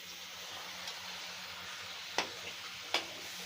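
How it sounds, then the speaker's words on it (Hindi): Tomatoes fry with turmeric and spices for chicken biryani, a constant close hiss of sizzling broken by two brief scrapes of a stirring spoon. "अब हम टमाटरों को भी भूनेंगे जब तक ये गल ना जाए"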